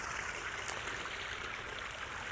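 Water runs in a pondless backyard garden waterfall, a soft, steady splashing trickle that carries on evenly and fairly quietly with no voices.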